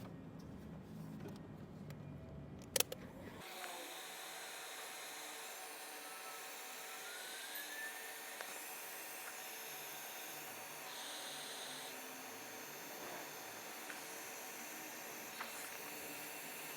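Heat gun blowing steadily to shrink heat shrink tubing over wiring on a Cummins intake elbow install, a constant airy roar that kicks on after a click and runs on without talking.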